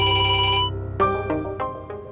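A phone ringtone plays a steady, bright electronic tone for under a second, then cuts off; a few sharper tonal pulses follow, close and clear.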